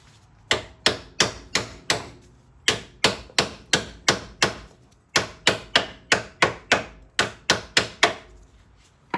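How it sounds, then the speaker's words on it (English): Steady metal hammer blows on a ball joint of a 2004 Polaris Scrambler 500, about twenty sharp ringing strikes in quick bursts with short pauses between groups, close and loud. "I'll give her a little love with a hammer."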